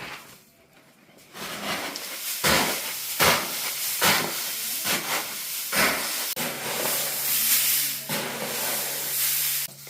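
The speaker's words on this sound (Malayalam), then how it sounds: "ഈ തൂത്തുവാരി വെച്ച് സിമ്പിളായിട്ട് നമുക്ക് മിക്സ് ചെയ്യാനേ ഉള്ളൂ" Fresh cardamom pods in Idukki being mixed by sweeping with a broom, heard as a series of loud rough swishing rushes, one after another up close, rising from a quiet start into a continuous rustle.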